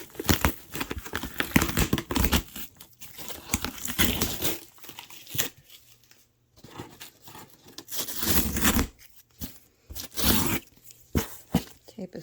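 Crinkly tearing and ripping of packing tape coming off a cardboard mystery shoe box from a Goodwill blue box, close and busy for several seconds with brief pauses; no talk.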